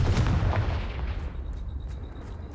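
Confringo explosion spell cast in Hogwarts Legacy, a heavy booming blast at the start that trails off into a fading rumble, with faint ringing tones afterward.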